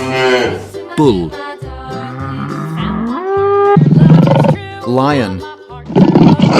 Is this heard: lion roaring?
yes